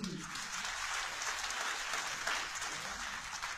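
Audience applause fills a hall at a grand celebration program at BCIC Bhaban: steady, dense clapping from a large crowd, loud and continuous for the whole stretch with no pauses.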